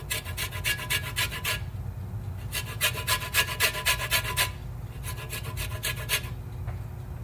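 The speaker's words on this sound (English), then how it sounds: "you want to grate some lemon zest in there" Lemon zest is grated for cheesecake with quick rhythmic rasping strokes in three bursts, close and fairly soft, with brief pauses between them.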